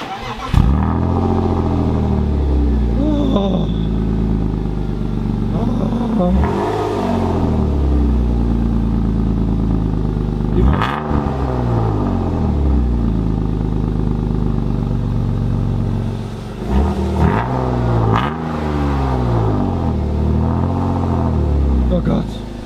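BMW E36 engine running and revving up repeatedly, loud and close, with rising and falling rev sweeps; people talk over it throughout.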